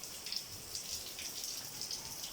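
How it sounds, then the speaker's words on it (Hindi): Heavy rain falling outdoors at a dera in Islamabad, a steady, fairly faint hiss of dense drops with light pattering and dripping, continuous with no voices. "बहुत तेज़ बारिश हो रही है"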